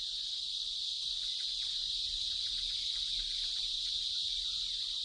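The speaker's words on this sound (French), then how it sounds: "c'est la cigale qui a le chant nuptial le plus bruyant" Loud, steady cicada mating song, a harsh high-pitched buzz holding constant throughout with no breaks.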